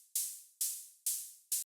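Open hi-hat built from white noise in Ableton's Operator synth, struck four times at an even pace: bright, hissy bursts that each cut in sharply and fade out, the last one chopped short. No other sound around them.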